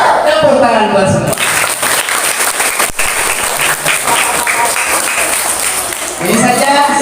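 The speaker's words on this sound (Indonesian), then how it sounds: "Tepuk tangan buat semua." A primary school audience bursts into loud, sustained applause that fills the room. Speech is heard at the start and again as the clapping fades near the end.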